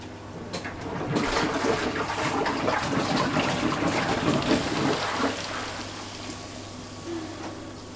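Water pumped through a return line rushes into a reef aquarium tank, a steady splashing gush that swells after the first second, holds, then tapers off toward the end.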